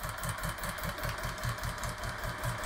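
A CFR test engine runs at a steady idle with a regular thumping beat and constant mechanical hum, close and continuous with no talk over it.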